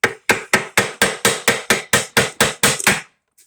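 A hammer gives about a dozen quick, evenly spaced taps on a Toyota RF1A transfer case during a teardown, each strike sharp, close and loud with a short ringing decay, followed by a faint clink.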